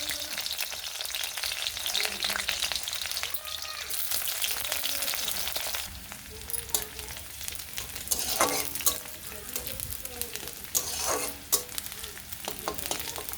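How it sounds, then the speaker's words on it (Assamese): Finely chopped onion and green chillies fry in hot oil, giving a continuous bright sizzle with crackling bursts and stirring scrapes in the pan, close and loud with no voices. "মোৰ পিঁয়াজখিনি ভজা হৈ গৈছে"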